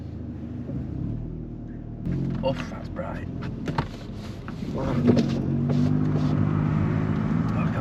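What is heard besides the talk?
Cupra Ateca exhaust, GPF deleted, driving with valves closed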